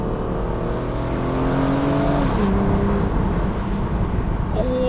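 An Aston Martin DB9 with an older automatic gearbox revs hard under acceleration, its engine note climbing steadily, shifting once, then rising again, loud and close with no talk over it.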